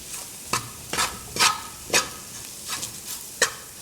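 Curry powder cooking over low heat while a spoon scrapes and stirs it, short distinct scraping strokes about every half second over a soft, faint sizzle, with no talking.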